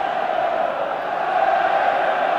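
A rugby stadium crowd in Cardiff cheers for Wales against Scotland at a Five Nations match, a dense, loud, continuous roar of many voices that swells slightly toward the end.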